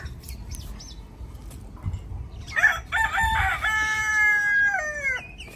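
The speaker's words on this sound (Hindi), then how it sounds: "मुर्गे ने बांग देना स्टार्ट कर दिए," A rooster crows once in a village setting at dawn before sunrise, a loud, clear call with rising then long sustained notes, heard over low background rumble near cooking preparations.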